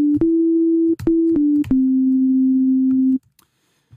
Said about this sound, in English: if I play it now, you can hear in its default state, it simply creates a sustained sine wave